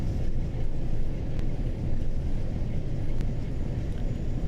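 A Class 47 diesel locomotive hauling a train rumbles with a continuous low, heavy juddering drone, steady and close throughout, with no speech over it.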